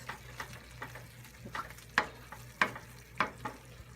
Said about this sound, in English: I'm gonna let this simmer for about 10 minutes.